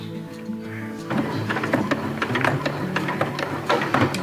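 A sewing machine bar tacks heavy webbing onto a Dyneema stuff sack, starting after a brief low hum with a dense, steady run of rapid mechanical ticking and clatter at close range.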